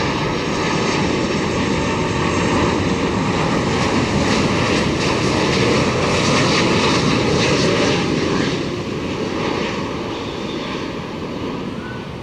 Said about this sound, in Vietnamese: Và bây giờ thì chiếc máy bay hạ cánh xuống đường băng 25 phải.